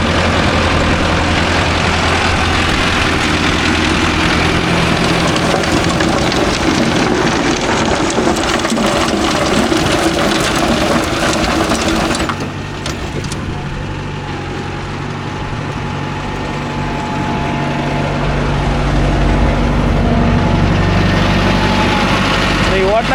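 A Mahindra tractor, an Arjun Novo 605 DI or Yuvo 585, runs with a rotavator, giving a loud steady engine drone and churning rumble that eases briefly about halfway through before building back up.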